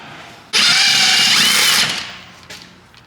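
Power tool removing the differential bolts on a G35 during a welded diff and diff mount job, one loud close whirring burst of about a second and a half that winds down, followed by a faint knock.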